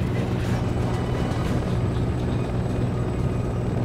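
A helicopter in Resident Evil 6, heard as a steady, dense low-frequency drone that rumbles close and unbroken throughout, with no voices over it.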